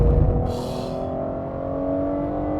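A Ferrari F12 TDF accelerates hard, its engine note holding a steady loud drone with a brief burst of noise near the start, heard alone without talk.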